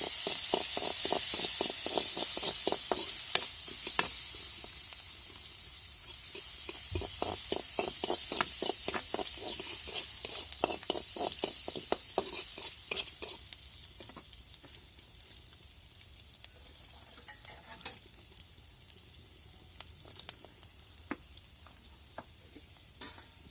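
Onions fry in a small amount of oil in a pan, hissing and sizzling with a dense crackle of tiny pops that starts strong, then settles into scattered spits and snaps.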